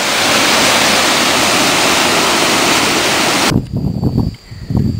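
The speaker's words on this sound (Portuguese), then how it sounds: "Cachoeira dos Bandeirantes. Eu vou lá no pé dela para conhecer." Cachoeira dos Bandeirantes waterfall on the Araguari River, near its headwaters, roars loud and steady as broadband rushing water, then drops abruptly to a much quieter, uneven outdoor wash for the final second and a half.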